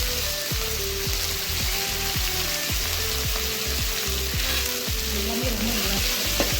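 Tempering vadagam sizzles in hot oil with drumstick leaves, drumstick flowers and curry leaves for millet sambar rice. A loud, close, steady frying hiss runs throughout, with scattered crackles and pops.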